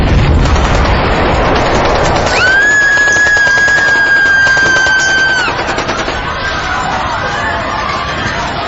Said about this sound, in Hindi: और तब एक धमाके के बाद AK-47 के राउंड्स गूंजे।